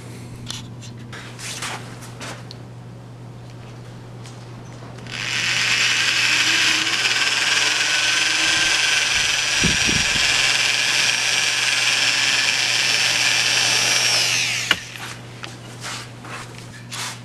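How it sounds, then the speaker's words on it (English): A power drill bores into a metal tripod extension arm, running as a steady high whine for about nine seconds in the middle of the clip, with quieter handling noise before and after it. "Let me go ahead and get that drilled out,"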